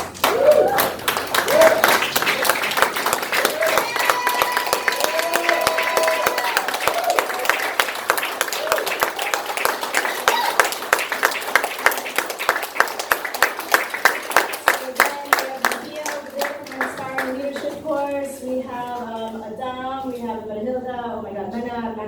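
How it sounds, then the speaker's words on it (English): Audience applause at an awards soiree, a dense stretch of many hands clapping that carries on steadily throughout and grows more spaced toward the end, while a voice speaks over the final seconds. "can you please stand so we can give you all a big round of applause?"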